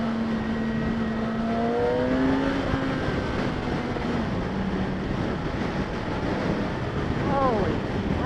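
A 2016 Yamaha R6 motorcycle engine pulls hard in second gear around 10,000 RPM at about 50 mph. A rising, droning whine sits under heavy rushing wind noise.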